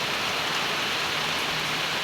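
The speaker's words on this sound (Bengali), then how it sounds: "অনেক জোরে বৃষ্টি হইতেছে" Heavy morning rain in Noakhali pouring onto leaves, a dense, steady hiss of countless drops, loud and continuous with no voices.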